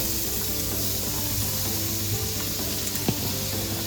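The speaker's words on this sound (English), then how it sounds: "the first thing we want to put in this pot, once the oil is starting to get to temperature, is the diced onions" Diced onions hit hot extra virgin olive oil in a pot, producing a loud, dense, continuous sizzle up close with a brief clatter near the end.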